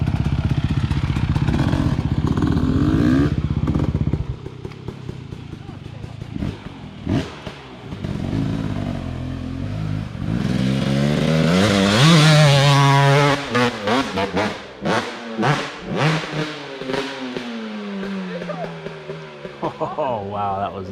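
Dirt bikes climb rocky hills at an off-road rock-climb park in Wellsville, Ohio, their engines revving loud and close, rising and falling in bursts with clattering, while people talk nearby.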